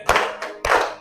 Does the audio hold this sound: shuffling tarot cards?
no